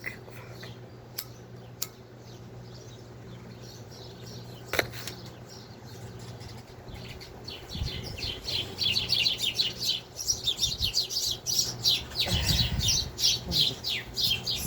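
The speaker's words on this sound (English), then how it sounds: "Sparrows are having a smackdown over here." Sparrows squabble outdoors in the morning. Sparse chirps and a few sharp ticks come first, then a dense, busy flurry of overlapping chirping that grows louder toward the end.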